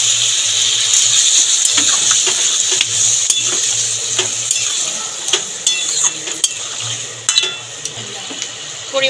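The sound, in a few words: stir-frying taro and potato with spices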